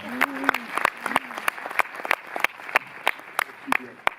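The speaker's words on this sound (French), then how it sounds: "ça vaut aussi des applaudissements quand même" Scattered clapping from a cinema audience at a film screening and discussion, sharp separate claps spaced across a few seconds, with people talking underneath.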